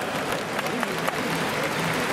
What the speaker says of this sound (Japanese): 大きな拍手を送りください